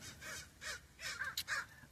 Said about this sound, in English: oh, crows are everywhere